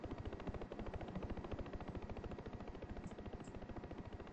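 Video game helicopter in a military police mission, its chopper going down: a steady fast rotor thump chops continuously at close range, loud and unbroken throughout, with no talking.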